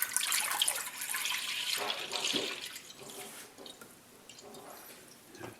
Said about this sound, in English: Let's pour in the whole gallon of milk.